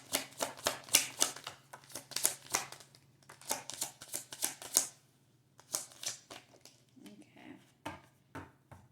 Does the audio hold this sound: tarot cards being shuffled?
yes